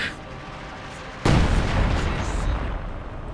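Artillery fire in the World War II strategy game Company of Heroes 2: a heavy boom hits suddenly and rolls into a long rumbling blast that fades slowly, following a quieter stretch of game ambience.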